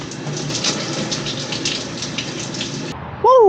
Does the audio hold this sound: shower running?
yes